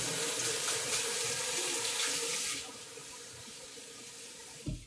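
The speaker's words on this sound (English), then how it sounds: "So I'm going to wash my hands." Water runs from a tap during handwashing, a steady close hiss and splash that drops quieter partway through before a brief clunk as the flow is turned off.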